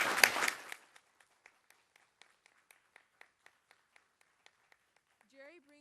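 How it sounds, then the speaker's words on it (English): School board meeting audience applauding for a new student board member, a brief burst of clapping that quickly thins to a few sparse isolated claps before a voice begins speaking. "Can we give a round of applause?"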